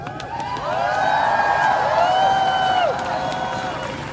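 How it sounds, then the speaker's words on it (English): Crowd cheering at a PEN America Writers Resist rally in New York City: a swell of whoops and shouting voices with scattered clapping that builds, holds loud for a couple of seconds, then fades into murmuring. "That cheer is for you."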